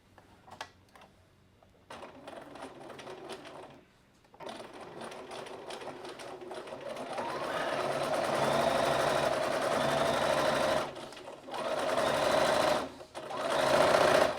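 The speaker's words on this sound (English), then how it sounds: "we're just going to sew 1/4 inch along the straight bottom edge" A sewing machine stitching a quarter-inch seam along the straight bottom edge of a fabric piece runs in close, loud bursts that start and stop, with a long steady run in the middle and short pauses between stretches.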